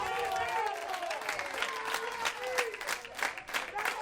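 A Canary Islands television studio audience applauds on a morning show, brief steady clapping at moderate level with voices mixed faintly into it.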